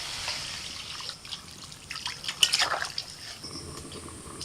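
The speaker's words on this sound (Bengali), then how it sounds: "এবার জল দিয়ে দিচ্ছি।" Water poured into a pan of spiced ridge gourd and potatoes, a soft trickling splash that builds in the middle and fades, heard close with faint kitchen background.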